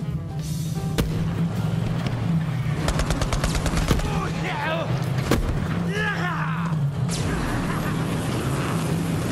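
Rapid, sustained gunfire from a Borderlands 3 firefight, bursts crackling continuously and loud with sharp shots and weapon effects layered under a persistent low hum throughout.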